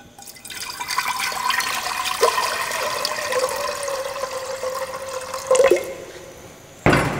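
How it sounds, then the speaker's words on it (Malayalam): Water pours steadily into a cooking pot for palada pradhaman, a continuous splashing stream with a few clunks, ending in a sharp knock. "ആദ്യം നമുക്ക് ഇതിൽ കുറേ വെള്ളം ഒഴിക്കാം"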